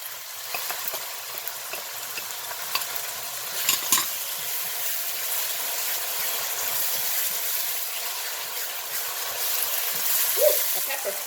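Eggplant frying in about five tablespoons of cooking oil for a spicy Thai eggplant dish, a steady broadband sizzle with occasional stirring clatters and a louder burst near the end.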